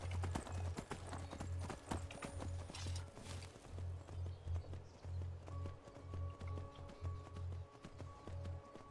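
Rhythmic clip-clop of horse hooves trotting steadily in the video game Skyrim, close and regular, with faint game-like background tones underneath.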